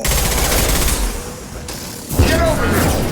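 Heavy gunfire in the video game Mass Effect 2 rattles in dense, continuous bursts, loud and close, with a brief lull before another heavy volley and a boom.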